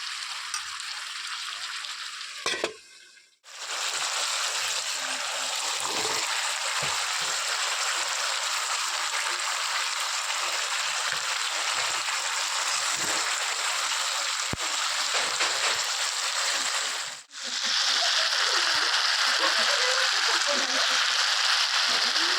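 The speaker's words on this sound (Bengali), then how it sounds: "তো এই যে কষিয়ে নিয়েছি তরকারিটা, এর মধ্যে একটু করেই হচ্ছে জল দিয়ে দেবো।" Water is poured into a sautéed curry in a pan, setting off a loud, steady hissing sizzle that runs on for about twenty seconds, broken by two brief pauses.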